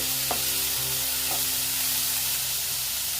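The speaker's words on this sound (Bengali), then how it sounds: "দিয়ে ভালো মতন ভেজে নিচ্ছি" Onion and garlic fry in a pan with a constant loud sizzle, a steady low hum beneath and a couple of faint utensil clicks, close up and with no talking.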